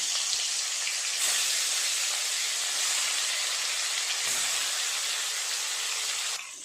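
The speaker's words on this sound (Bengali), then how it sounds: "তেল গরম হয়ে গেছে, এক এক করে মাছ দিয়ে দেব" Pieces of bhetki fish frying in hot oil give a steady, loud, close sizzle that stays even throughout, with a brief surge when more fish goes into the pan and a slight fade at the end.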